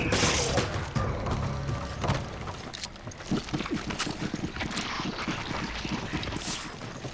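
Gunfire in the Resident Evil 5 video game, a dense burst of shots followed by a sharper run of repeated reports, loud and close over a busy game soundscape.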